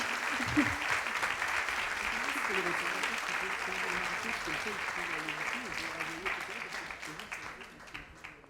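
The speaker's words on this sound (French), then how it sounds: "Et sous vos applaudissements, bien sûr." Audience applause at a conference on anxious school refusal, a steady crowd clatter lasting several seconds, with a voice speaking faintly beneath it as it gradually thins out.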